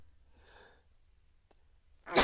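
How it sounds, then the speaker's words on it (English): A single person sneezes once, with a faint breathy wind-up lasting about half a second, then a quiet pause and a sudden loud, sharp burst at the very end. "I'm gonna sneeze"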